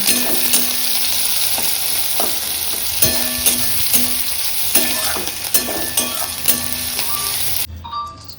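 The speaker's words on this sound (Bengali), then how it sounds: "শাক ভাজা।" Leafy greens fry in a pan with a continuous loud sizzle and repeated scraping stirs at irregular intervals, a faint tonal hum running underneath, ending abruptly near the close.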